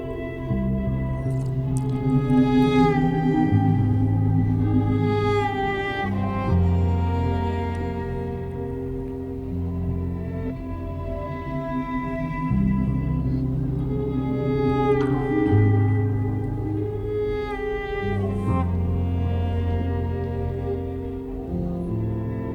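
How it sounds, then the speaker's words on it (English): A continuous stretch of layered music from a song, with swelling tones that rise and fall in a backward-sounding way. Sustained low notes sit under shimmering upper textures, steady in loudness throughout. "See, there's that reverse again."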